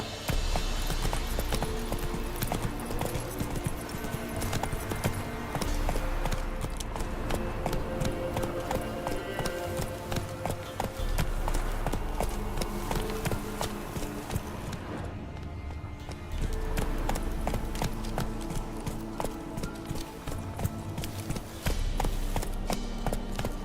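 Roach the horse gallops in The Witcher 3, a steady rhythmic clip-clop of hooves running close and loud over game music and ambience, with a brief quieter break midway.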